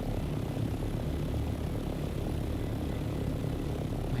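Aircraft flying high in the Dune Awakening video game, a steady, loud engine drone with a propeller-like roar running unbroken throughout with no talk.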